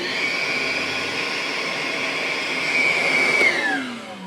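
A Ryobi bucket-top wet/dry vacuum runs from about three feet away with a loud, steady whine, then winds down and its pitch falls as the motor slows near the end.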